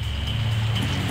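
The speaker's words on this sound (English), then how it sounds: "from this torrential rain." Steady torrential rain in the video game Grandia, on a storm-lashed mountain, a continuous dense hiss with a low rumble underneath, heard alone without talk.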